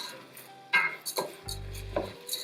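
Seasoned rice for arroz con gandules is mixed in a pot, giving a few close scraping and clattering knocks of a spoon against the pot, spaced irregularly with quiet gaps between.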